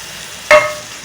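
Shelled green bean seeds tipped into a pan of potatoes already frying, giving one sudden short burst of sizzle and clatter that quickly fades to a low, steady background hiss.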